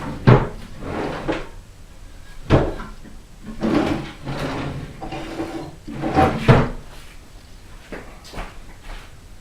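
Wooden cupboard doors and drawers being opened and shut in a guitar repair workshop during a search for files, a series of sharp knocks and thuds spaced a couple of seconds apart with rummaging rattles between, close by.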